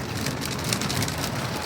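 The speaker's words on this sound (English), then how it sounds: "It's raining, it's lightning, it's thundering, it's hailing." Steady rain falls during a thunderstorm with hail, heard as a dense, constant patter with low rumbling underneath, close and moderately loud with no voices.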